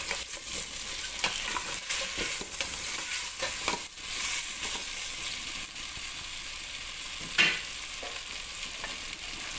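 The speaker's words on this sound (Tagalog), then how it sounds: "Gisahin lang natin siya." A salmon head sautés in a pan, a steady sizzle with scraping stirs and occasional clinks of a utensil, close and continuous without talk.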